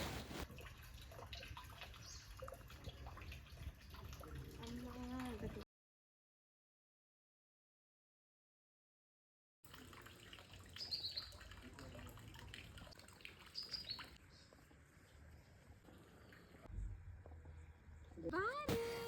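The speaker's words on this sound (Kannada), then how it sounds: "ನಿಶಬ್ದವಾದ ಪರಿಸರದ ಮಧ್ಯ ನೀರು ಹರಿತಾ ಇರೋ ಶಬ್ದ ಕೇಳಿಸ್ಕೊಳ್ಳೋದೇ ಒಂದು ರೀತಿ ಚಂದ" Water runs in a temple tank (kalyani) at Nirvanaswami Matt in Chikmagaluru, a soft continuous trickle and flow in quiet surroundings, briefly cut out in the middle, with a few light splashes near the end.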